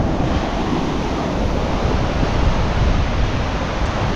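Steady roar of ocean surf crashing continuously, loud and close, with wind noise mixed in and no voices.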